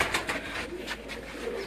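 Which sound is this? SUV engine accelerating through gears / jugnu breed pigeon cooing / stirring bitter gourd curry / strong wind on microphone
jugnu breed pigeon cooing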